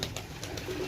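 Pigeons give a brief, soft coo, faint and close, under a low background hush.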